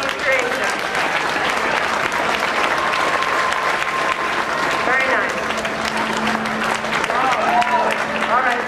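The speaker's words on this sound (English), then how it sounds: "Let's have a round of applause for Dave Giovanni's creation." Convention audience at DragonCon 2007 applauds a costume creation with weapons and armor for a post-nuclear world, loud steady clapping filling the whole stretch with a brief spoken word over it.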